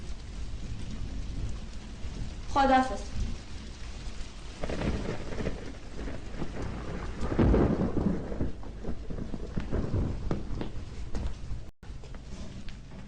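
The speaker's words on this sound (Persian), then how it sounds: "از بارون خوشم میاد" A heavy downpour hisses steadily, broken by rolling rumbles of thunder, one sharp crack near the start, with a brief word of speech at one point.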